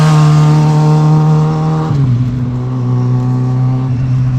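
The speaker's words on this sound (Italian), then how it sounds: "Guardate, moto qua." A motorcycle roars past close by on a Dolomites mountain pass, its steady droning pitch dropping sharply as it goes by, then fading.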